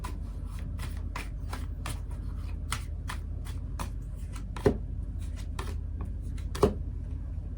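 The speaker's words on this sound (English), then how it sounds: "Let's pull some cards from the universe." Tarot cards being shuffled and drawn: a steady run of crisp, close paper snaps and flicks in a quick rhythm, with two sharper slaps near the end.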